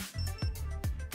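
A MagiLight LED light stick powering on after its blue button is pressed, giving a short electronic startup jingle of tonal beeps with sweeping chirps, close and fairly loud.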